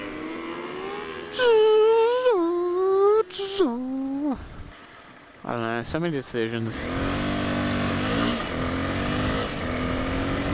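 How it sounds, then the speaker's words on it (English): Motorbike engines rev and whine loudly as they pass nearby, pitches rising and falling, with a person talking briefly over the noise. "Ooh, motorbikes."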